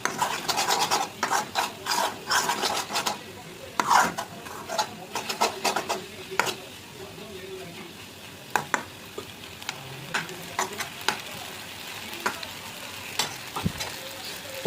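Egg Maggi noodles are stirred in a pan, a run of scraping, rasping utensil strokes over a faint sizzle, busy at first, then sparser.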